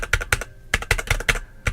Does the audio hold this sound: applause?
no